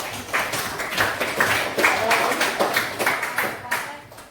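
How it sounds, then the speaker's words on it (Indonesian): A classroom group gives a short burst of steady, fairly close applause lasting a few seconds, the claps rhythmic and even with faint room noise behind. "Ya, berikan aplaus."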